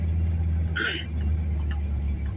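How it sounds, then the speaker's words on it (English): An old, rickety truck engine drones with a deep, steady low rumble inside the cab, with a brief higher-pitched sound partway through. "this truck is loud"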